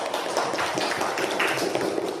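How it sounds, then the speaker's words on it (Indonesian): A primary school class clapping for a group after its presentation, a brief burst of many hands tapping together at moderate volume in a classroom. "kita beri juga di mereka tepuk tangan"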